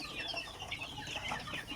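Hens clucking inside a village chicken coop with about forty laying hens, a soft, busy overlapping chatter of short clucks and peeps, faint and continuous.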